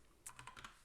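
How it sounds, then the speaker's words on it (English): A computer keyboard gets a short burst of quick keystrokes, about five or six crisp clicks close up over less than a second, with nothing else in the background. "my typing."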